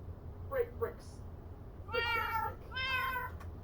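Minecraft cats meow several times in quick succession, two short mews followed by two longer, louder ones, over a steady low hum.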